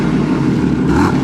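A stock BMW engine revs in a short, loud, close burst, a steady throaty roar with no talking.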